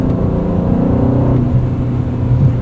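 Aston Martin DB12 with its AMG-sourced V8 driving on the road, a steady, loud engine drone with layered harmonics that shifts pitch slightly midway, continuous and close with no talk.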